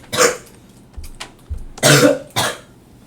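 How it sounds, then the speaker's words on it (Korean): Several sharp coughs and throat-clearing bursts from one person in a high school classroom, sounding in uneven bursts that are loud and close, with quiet room noise between them. "기침만이요"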